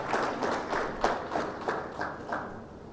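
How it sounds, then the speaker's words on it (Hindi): Audience applause at the Baran Ratna 2026 award event, a moderate crowd clapping in uneven bursts with distinct claps standing out, fairly steady over a few seconds in a large hall. "तालियों से इनका सम्मान करें।"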